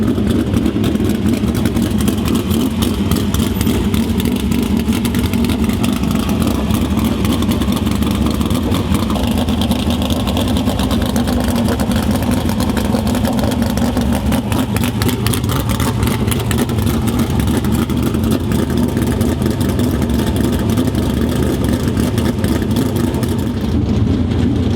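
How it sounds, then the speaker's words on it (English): Race car engines idling and rumbling in the pit area at Lucas Oil Speedway, a loud, continuous, close engine drone with light revving throughout. "We just fired up and got some heat in the engine."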